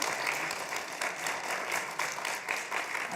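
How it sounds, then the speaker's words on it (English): Applause from a modest audience at a lunch-and-learn talk in a temple hall, fairly quiet and slightly uneven clapping that rolls on steadily for a few seconds. "Another round of applause"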